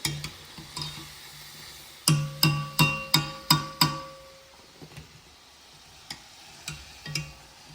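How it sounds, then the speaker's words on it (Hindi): Heart-shaped pooris frying in a pan of hot oil, with a run of sharp regular clicks and taps from a utensil against the pan over a soft sizzle, followed by a few sparser taps. "अब जो बची हुई हैं इनको भी कर लेता हूँ जल्दी से फ्राई।"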